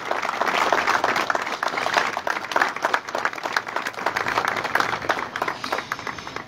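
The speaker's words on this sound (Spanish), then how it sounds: "pedir un fuerte aplauso por ellos" At a police awards ceremony in Capitán Sarmiento, an audience applauds the officers with a full round of clapping, individual claps audible in a pulsing, sustained ovation.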